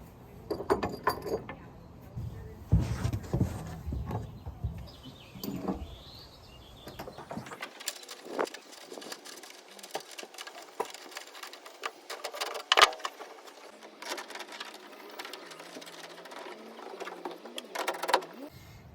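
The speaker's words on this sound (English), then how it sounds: "I'm just going to be using an impact as it's much faster than the ratchet" An impact wrench drives 17 mm bolts on a low-profile bed cover bracket of a Z71 pickup truck, giving bursts of buzzing, rattling hammering followed by a steadier mechanical whir, close and moderately loud.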